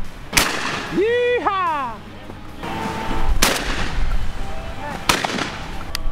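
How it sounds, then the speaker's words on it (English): Benelli 28 gauge shotgun firing during a white-wing dove hunt outdoors: three sharp, loud reports spaced a few seconds apart, with someone shouting a cheer between shots. "This little 28 gauge, this Benelli 28 gauge, it's a sweet shooting gun."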